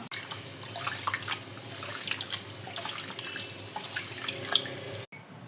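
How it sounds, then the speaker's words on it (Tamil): Water runs and splashes steadily, as lentils and rice are rinsed by hand in a bowl, with small drips and sloshes before it cuts off. "தண்ணி ஊற்றி ஒரு 4 வாட்டி கழுவிட்டு"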